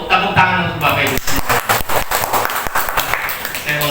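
An audience of teachers at a school training session breaks into applause, a sharp crackle of many clapping hands that rises, then continues unevenly over a voice speaking.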